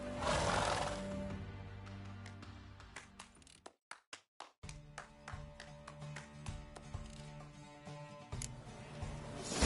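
Horses in a Witcher 3 race neigh and whinny loudly at the start, then hooves clatter in a quickening clip-clop gallop after a brief burst of sharp taps, running on to the end.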